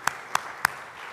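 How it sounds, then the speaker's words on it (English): Three separate hand claps from a church congregation at a worship service, evenly spaced and fairly near, followed by quiet room tone. "encourage him with a hand clap for the Lord and him."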